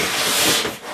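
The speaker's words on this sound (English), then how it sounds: "You just take your trusty X-Acto knife and" An X-Acto knife slices along the top of a cardboard box holding a BitFenix Prodigy White computer case, a loud, close, continuous scraping rasp that tapers off at the end.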